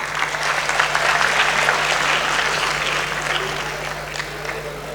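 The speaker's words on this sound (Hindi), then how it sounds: "इनके लिए तालियां बजा दीजिए।" Sustained audience applause at an annual mushaira poetry gathering, a dense steady wash of clapping from a large crowd that holds for several seconds and eases slightly toward the end, with a faint steady hum underneath.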